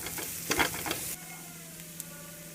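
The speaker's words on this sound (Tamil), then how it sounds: "இப்போ பொடியெல்லாம் போட்டு ஒரு நிமிஷம் எண்ணெயிலே வதக்கிட்டேன்" A brief, close sizzle of spices frying in hot oil, crackling loudly at first, then quieter with a faint pop.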